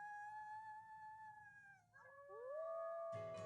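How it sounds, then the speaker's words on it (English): A long, drawn-out wolf howl in the video game WolfQuest, with a clear pitch sliding over a low background hum, followed by a second rising howl and a sudden brighter burst at the end. "I do a big howl."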